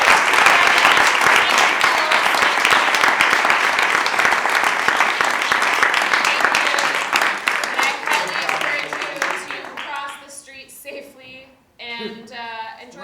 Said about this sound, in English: Can I just ask for one more round of applause for you